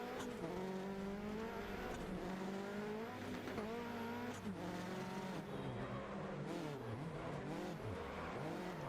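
Peugeot rallycross cars race in the game DiRT Rally 2.0, with several engines revving and accelerating together, loud and close, and tires squealing and skidding through the corners.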